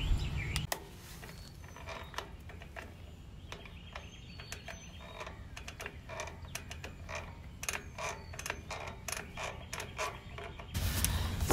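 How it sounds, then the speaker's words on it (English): Adjusting the drum brake adjuster nut on a Ford Bronco produces a series of short ratcheting clicks and creaks, irregular and close, with louder bursts at the start and end and no talking. "I'm gonna adjust the adjuster nut and then see what happens"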